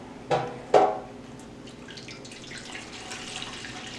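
Cinnamon-infused hot water poured into a pan of spare ribs before smoking, opening with two sharp splashes followed by a steady, soft trickling wash of liquid, close and fairly quiet.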